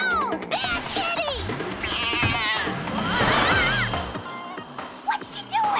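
A cartoon cat meows and caterwauls loudly in a stretched, wavering yowl amid busy cartoon sound effects and a voice.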